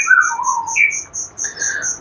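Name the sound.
white-rumped shama singing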